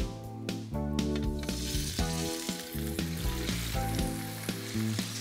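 Pork bondiola involtini sear in oil in a pan with a steady sizzle, set under prominent background music with changing tonal notes.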